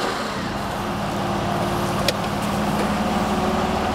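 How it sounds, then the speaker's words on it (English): A Porsche 911 engine runs at a steady idle, close and loud, with a low rumbling drone throughout and one brief sharp click partway through. "So if you like a bit of a grunt and an angry, visceral sound out of your 911"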